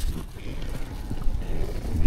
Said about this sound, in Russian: Ветерок очень сильный.